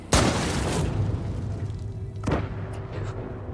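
A single loud sniper rifle shot booms out at the start of an action film scene, followed by a rumbling tail and a second, softer crack about two seconds later.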